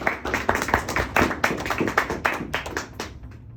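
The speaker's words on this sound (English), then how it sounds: "Let's give him another round of applause." A short burst of applause from a small group, quick overlapping claps that hold steady and then thin out toward the end.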